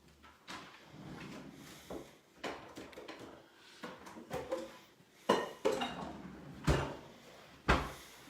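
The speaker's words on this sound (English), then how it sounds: "I'm going to set that aside and get a different bowl to beat my eggs in" Bowls and dishes clatter and knock as they are handled in a home kitchen while baking pumpkin pie, with a run of irregular clinks and thuds that grow louder and sharper toward the end, no talking.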